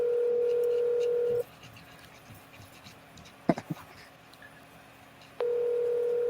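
A telephone rings on an outgoing call: a steady electronic ring tone sounds for over a second, then a long pause with faint scratchy noise and a brief click, then the tone rings again.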